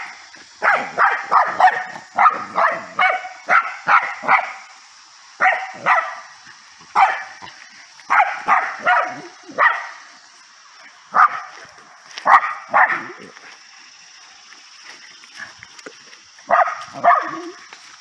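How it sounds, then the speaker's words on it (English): A dog barks repeatedly at a horse, sharp close barks coming in quick bursts and clusters with short pauses, against a steady high insect-like hiss and no talk. "This is Jody barking at Sniper."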